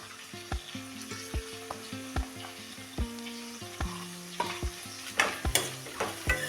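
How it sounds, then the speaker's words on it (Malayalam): Ginger, garlic, green chili and onion sauté in a pan, with a steady sizzle and regular spatula scrapes and taps under soft background music. "നമുക്കിതൊന്ന് നന്നായിട്ട് തന്നെ വഴറ്റിയെടുക്കാം"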